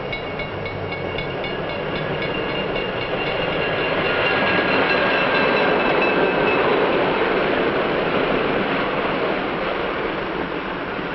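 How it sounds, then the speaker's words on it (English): A passenger train approaching a station in the 1950s, heard as a steady, loud rolling roar of carriages on the rails with a faint high squeal of wheels or brakes, and no talk. "the train is approaching a station."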